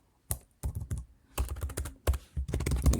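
Someone types a Terraform command on a computer keyboard, giving close, crisp keystrokes in irregular bursts, several quick clicks at a time, with short pauses between the bursts.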